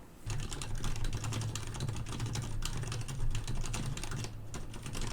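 Typing on a Varmilo office mechanical keyboard with silent red switches, a quick, steady patter of soft, muted keystrokes heard close up with no talking.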